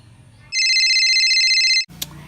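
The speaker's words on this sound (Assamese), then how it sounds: "খগেনকে এটা ফোন কৰো ৰ" A phone ringtone plays steadily for over a second after a call is placed, loud and alone between stretches of quiet talk, breaking off as someone answers.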